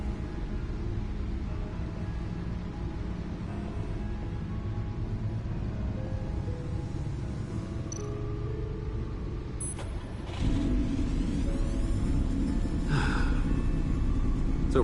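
A powerful car engine rated over 600 horsepower in a Telltale Batman game rumbles steadily throughout, growing louder after the midpoint as if revving, with faint game effects and no talk.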